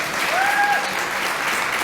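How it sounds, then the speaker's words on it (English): Steady crowd applause from an audience at a Black History Month celebration, a dense even wash of clapping filling the room. "Let's give Miss Benton another applause."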